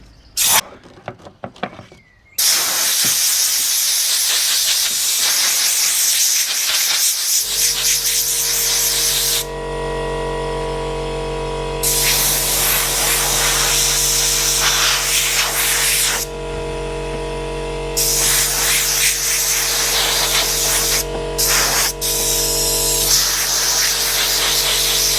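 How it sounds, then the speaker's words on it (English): Compressed air blasts through a car air filter during an oil change on a GWM Haval Jolion, a loud, continuous hissing rush in long bursts with short pauses, after a few handling clatters at the start. "when you blow it that way, you can actually feel the air coming through"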